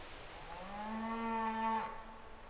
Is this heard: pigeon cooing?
no